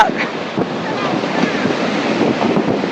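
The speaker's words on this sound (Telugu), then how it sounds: "ఉప్పాడ బీచ్ కాకినాడ" Sea waves wash ashore at Uppada beach near Kakinada, a loud, continuous rushing surf mixed with heavy wind buffeting the microphone, close by, with no clear talk.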